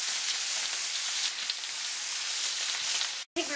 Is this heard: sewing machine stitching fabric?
no